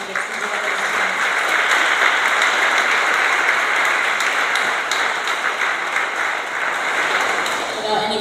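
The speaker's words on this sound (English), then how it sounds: "we want to gratefully thank them right now with a huge round of applause from our students" An audience at a student music concert gives a big round of applause for the Chelmsford Friends of Music, dense sustained clapping that fills the room from start to finish.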